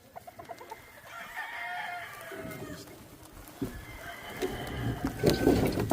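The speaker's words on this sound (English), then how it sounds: "That's an old sweater rooster." Old sweater rooster crowing on a farm, one long crow followed by a second, with clucking hens and other fowl around it and no talk.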